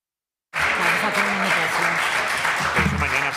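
Applause in the regional parliament chamber during a plenary session of the Cortes de Aragón, starting abruptly after a silence and keeping up a steady, dense patter of clapping hands for about three seconds.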